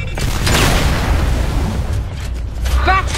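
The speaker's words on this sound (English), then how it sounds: "Incoming grenade!" A grenade blows up in the shooter game Gears of War 3 during a team deathmatch on the Hotel map, a loud, deep, rumbling blast that fills the moment, with a brief voice callout near the end.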